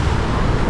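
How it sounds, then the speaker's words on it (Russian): Sea waves wash and crash against the rocky shore at Kuşadası in Turkey, a loud, continuous surf roar mixed with wind buffeting the microphone. "Хлещет волна."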